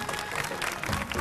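Studio audience applause on the Marathi game show Home Minister, a steady dense wash of clapping held evenly through the moment, fairly close and moderately loud with a faint crowd murmur beneath.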